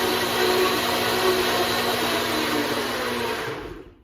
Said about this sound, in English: So put my lid on and I'm just going to turn this up till it blends